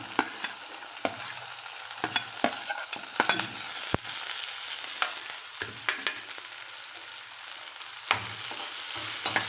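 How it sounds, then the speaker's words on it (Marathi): Finely chopped onion fries in a spiced tempering for a Malvani-style capsicum curry, producing a continuous loud sizzle broken by repeated clacks and scrapes of a spoon stirring in the pan, no voices. "बारीक चिरून घेतलेला कांदा फोडणीला घालत आहे"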